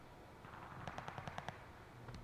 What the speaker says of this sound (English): I don't like how I can hear other gunshots